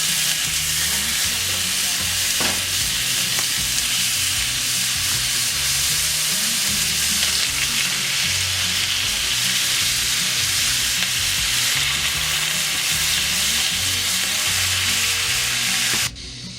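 Shredded slow-cooked meat fries in a hot cast iron skillet, giving a steady, loud, continuous sizzle with crackling and occasional stirring scrapes throughout.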